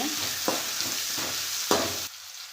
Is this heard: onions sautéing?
yes